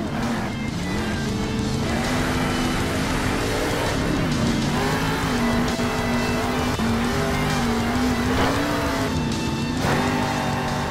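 Monster truck engines roar in the Monster Jam Steel Titans video game, a loud, continuous engine drone whose pitch rises and falls as the trucks perform stunts, with scattered thumps and tire noise.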